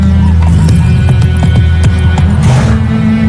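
Hoofbeats of the horse Roach in The Witcher 3 game, irregular clip-clop thuds over a loud steady low hum, with horse snorting and a possible brief whinny up close.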